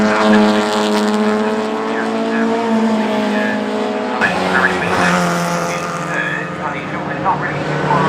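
Classic Jaguar E-Type sports cars racing at Oulton Park, engines droning loudly and steadily with a shift in pitch midway as cars pass, a commentator talking over the racing throughout.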